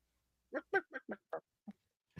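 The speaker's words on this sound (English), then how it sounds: "Do I hear clucking? Did someone bring a chicken in" A chicken clucks close by in a western film, seven short separate clucks in an uneven run with a brief flutter at the end and no talk over it.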